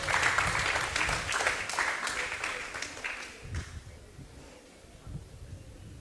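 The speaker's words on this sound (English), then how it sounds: "give yourselves a round of applause for that" Audience applause from a gathering of listeners starts full and dense, then thins out and fades to a few scattered claps and low murmuring.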